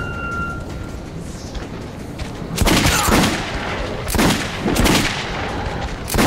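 Gunfire in Metro 2033 cracks out in several loud, close bursts over a constant background din, with heavy booming reports clustered in repeated volleys.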